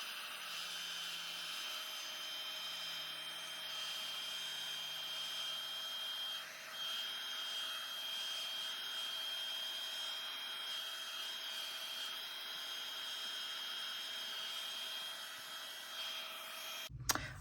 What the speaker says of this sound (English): So I'm going to dry it with my heat gun here.